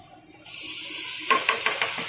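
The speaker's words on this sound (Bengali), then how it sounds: "এখন আমি এখানে দিয়ে দেবো মূলো শাক।" Radish greens dropped onto fried prawns in a hot pan and stirred, a sudden loud sizzle followed by a few scraping stirs against the pan, close and steady.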